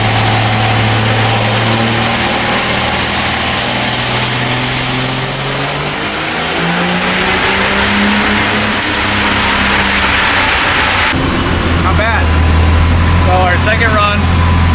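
A high-performance car on a dynamometer runs through a pull with a TDI 72 tune, the engine note climbing in a long sustained rise to a peak, then dropping off to a rough idle; loud and close, with no talk.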